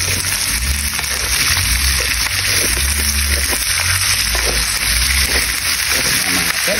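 Onions and garlic frying in oil for pork adobo give a steady, dense sizzle that runs unbroken and fairly loud from start to finish.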